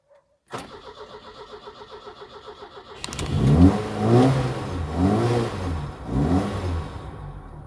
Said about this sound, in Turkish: Görmüş olduğunuz gibi LPG modunda aracımızı çalıştırdık